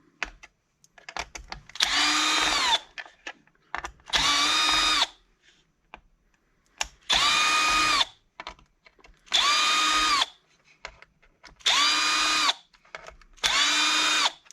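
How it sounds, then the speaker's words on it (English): A cordless power drill unscrews chassis screws on an RC monster truck, six separate whirring bursts of about a second each with short quiet gaps between, close and loud with no talking. "Now go ahead and remove the screws in the front."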